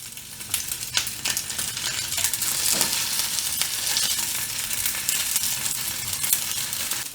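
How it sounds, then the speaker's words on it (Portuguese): Cheese-filled onigiri browning in a frying pan, a steady close sizzle and crackle with a few soft clicks, continuous and alone with no voices. "E colocar o onigiri. Agora é só deixar dar uma dourada."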